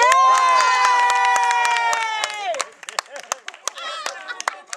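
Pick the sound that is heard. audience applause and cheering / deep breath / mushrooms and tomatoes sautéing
audience applause and cheering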